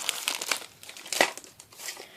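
Plastic bags from a Takara Tomy Gladiator Bahamdia Beyblade box crinkle and crackle up close in irregular bursts, with one sharper crunch near the middle and no talking.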